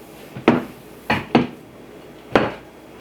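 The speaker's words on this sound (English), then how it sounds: "So then I just mix all of this together until it kind of absorbs the maple syrup" Four separate knocks of a spoon against a dish while sweet potato casserole with maple syrup is mixed by hand, each a short, close clatter with quiet gaps between.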